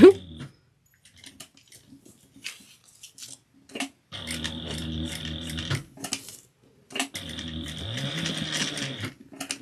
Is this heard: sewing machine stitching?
yes